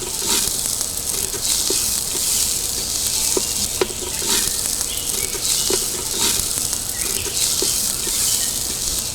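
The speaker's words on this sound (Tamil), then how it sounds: "அதன் பிறகு நாங்கள் வெட்டி வச்சிருந்த வெங்காயத்தை சேர்த்துக்கொள்ள வேண்டும்." Chopped onions fry in a pan for a spicy Jaffna crab curry, a continuous bright sizzle punctuated by sharp crackles and pops and occasional stirring scrapes, close and steady with no talking.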